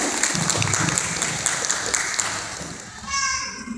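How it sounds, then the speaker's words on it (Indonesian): Audience of children and adults applauding at a Quran recitation gathering at an Islamic boarding school, dense clapping mixed with children's chatter and voices, fading toward the end as a voice rises. "Tepuk tangan semuanya"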